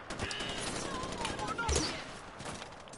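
Machine gun fire in Far Cry 4: a fairly faint, continuous rattle of distant shots blended into a busy game soundscape, with one slightly louder thump partway through.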